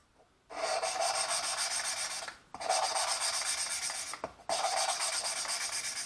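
Valves are lapped on a Holden 253 (4.2L) cylinder head: three long, gritty rasping strokes of close, rubbing metal, each separated by a brief pause.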